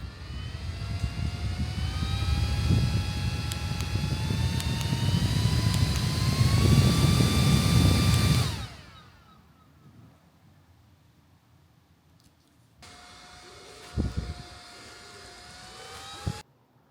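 A mini portable rechargeable travel fan with a neck strap whirs loudly with a rising motor whine, then cuts out abruptly, leaving near silence before it starts again at a lower, steady hum with a couple of small clicks.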